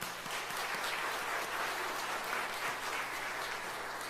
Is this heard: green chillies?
no